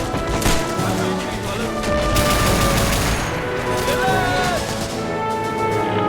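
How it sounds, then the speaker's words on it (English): Machine gun fire and dense battlefield gunfire in a war video game, continuous crackling bursts mixed with booms throughout, with a voice speaking over the combat. "Comes the machine gun again."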